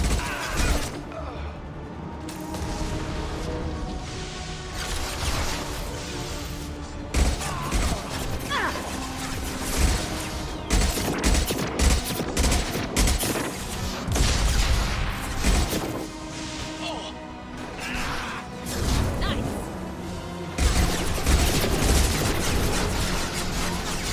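Ship weapons fire in the game Mass Effect 2 as a dense, continuous barrage of crashing, shattering blasts and booms, with a voice talking over the action.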